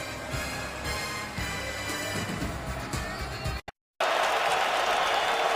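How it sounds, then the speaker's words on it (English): A football stadium crowd in Detroit cheering and roaring to urge on the Lions defense on third down, a broad, distant-sounding swell that cuts off briefly near the end and then resumes louder. "Crowd urging on the Lions defense on a 3rd and 6."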